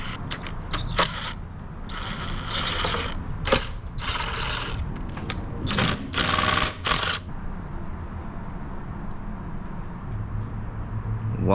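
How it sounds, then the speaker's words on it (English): Screws are worked out of a Talaria Sting R electric dirt bike seat, heard as a series of close, irregular ratcheting and rattling bursts for several seconds before it settles into quieter background. "Now we need to remove these screws right here."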